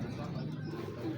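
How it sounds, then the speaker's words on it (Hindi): A large, sturdy pigeon cooing softly, a low, faint warbling coo set against quiet background murmur. "बड़ा तगड़ा कबूतर है यार"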